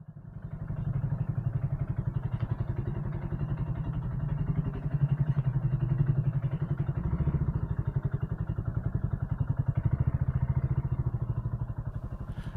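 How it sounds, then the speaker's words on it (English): A BSA Goldstar 650 motorcycle exhaust burbles steadily at low speed along narrow back streets, a close, continuous low throb with a rapid pulsing beat that rises and eases slightly throughout. "the sound of the exhaust as you potter along these narrow back streets is just a joy"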